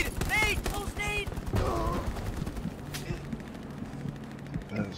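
A grenade goes off close by in Hell Let Loose, a sharp blast among scattered gunshots and rumbling battlefield noise, with voices shouting over the action.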